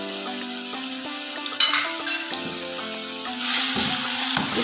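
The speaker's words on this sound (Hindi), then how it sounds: "ये जो मैरिनेट किया हुआ चिकन है वो मैंने ऑयल गर्म होने पर डाल दिया" Marinated chicken frying in hot oil, a steady close sizzle with crackling, punctuated by a few sharp clinks of utensils and brief stirring bursts.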